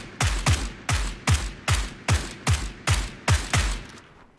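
Gunfire rings out in PUBG as about ten loud, close shots fire one at a time in a fairly steady rhythm, each with a sharp crack and a short decaying tail, heard alone.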